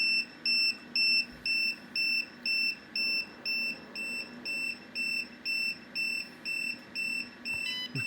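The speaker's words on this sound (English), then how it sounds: "Sorry about the alarm in the background" An electronic alarm sounds during a load test of a Renogy 100Ah LiFePO4 battery, giving a steady run of loud, evenly spaced high-pitched beeps, roughly one or two per second, that carries on without pause.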